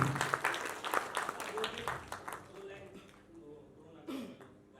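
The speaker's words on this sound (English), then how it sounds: "Please give a huge round of applause." Audience applause at the Legend Dadasaheb Phalke Award 2021 ceremony, a fairly faint patter of clapping that is busiest in the first half and then thins out, with voices talking over it.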